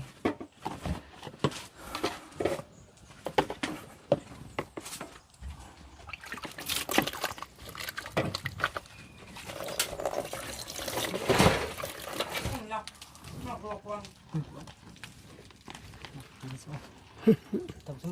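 Water flows and trickles close by in a mountain setting, a continuous gurgling stream with splashy bursts, while people talk over it throughout.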